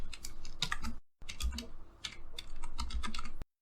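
Quick bursts of keystrokes on a computer keyboard as an email address is entered into a reset-password field, rapid clicky taps close by with one short pause partway through.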